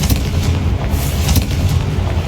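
A Confringo fire spell explosion in Hogwarts Legacy, a loud, dense rumbling blast with crackling bursts that lasts the whole moment, with no talking.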